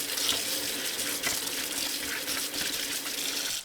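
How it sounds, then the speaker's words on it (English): Cold tap water runs steadily over shrimp being rinsed in a kitchen sink, a bright continuous splashing hiss with small fluctuations as the flow hits the shrimp, close and alone. "Then, rinse the shrimp under cold water."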